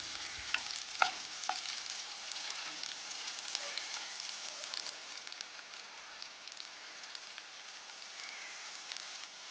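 Onion sautéing in a pan with garlic, green chili and curry leaves, a soft, continuous sizzle with a few sharp stirring clicks near the start, fairly faint throughout.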